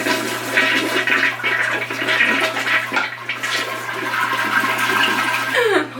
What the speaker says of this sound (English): I'm going to go ahead and probably take this and flush it down the toilet